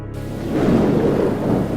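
Heavy rain with a deep, rolling thunder rumble builds into a loud, steady wash that carries on without any speech.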